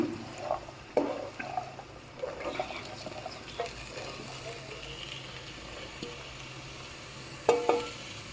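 Mixed vegetables dropped into fried onions sizzle softly in a pan while being stirred, with scattered scraping clinks of the spoon and a faint steady hiss.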